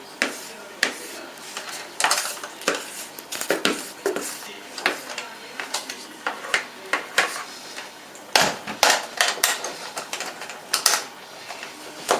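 Chocolate cake batter is scraped from a bowl into a baking mould, a run of sharp clicking and knocking strokes of a utensil against the bowl, close, uneven in rhythm and with no one talking.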